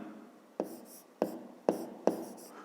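Pen or pencil writing by hand on paper during a fifth-grade maths lesson, four distinct short scratchy strokes at a slow, uneven rhythm, close and quiet.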